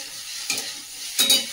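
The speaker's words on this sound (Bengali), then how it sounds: "এই যে কড়াতে আলু ভাজা বসিয়ে দিয়েছি" Potatoes frying in a wok, with two brief scraping stirs over a low background sizzle, close by, and no voices.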